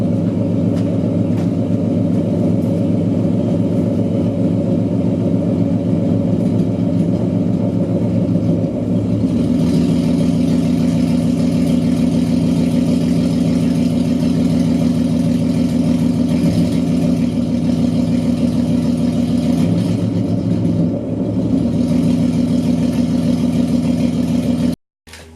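Ford Mustang S197 V6 idling in drive, a steady low rumbling hum that holds even and close for about twenty-five seconds, with a slight shift in tone partway through and no talking.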